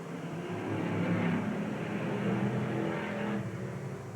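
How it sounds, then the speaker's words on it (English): Thirty race cars circling a 1987 speedway track, a sustained roaring engine drone that swells and fades as the pack passes, heard from a distance, loud and continuous. "30 race cars on the track and racing"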